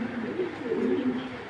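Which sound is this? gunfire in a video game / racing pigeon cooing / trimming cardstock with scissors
racing pigeon cooing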